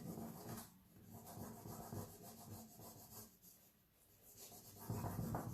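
A decoupage transfer is being rubbed onto a painted surface, giving a close, soft, steady scratchy rasping that comes in gentle strokes, with no talking.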